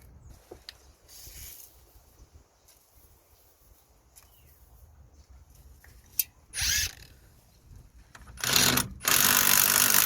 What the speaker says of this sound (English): we're gonna use a 21mm socket to undo these two nuts